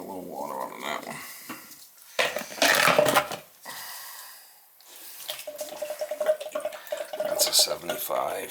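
Water splashes and trickles out of a crusty pressure relief valve on a residential well tank, arriving in two bursts of spattering flow amid faint drips and a clink of metal, fairly quiet and close.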